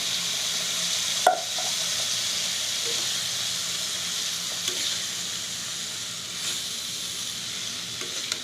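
Finely chopped bottle gourd peel fries in a pan on the stove, a steady close sizzle and hiss throughout with a few faint stirring clicks.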